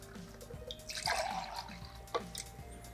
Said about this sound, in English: Let's pour ourselves a glass of wine.